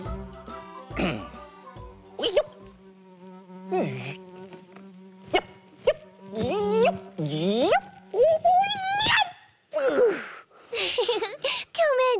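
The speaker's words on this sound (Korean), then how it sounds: "파리가 윙윙 너무 시끄러워서" Housefly buzzing in a children's home-exercise show, a wavering insect drone that swoops up and down in pitch between bursts of lively speech and playful vocal effects.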